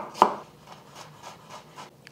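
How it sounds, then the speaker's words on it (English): A knife chops through cloves of Russian red garlic on a cutting board, one sharp loud chop followed by a run of softer, evenly spaced taps, close and with no talking. "it's too big to go into my garlic press too, so I'm just gonna chop it up and throw it in"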